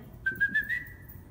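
A person whistles to call a pet cat named Morgan: four short rising chirps in quick succession, then a held, slightly rising note, close and clear against quiet background hiss.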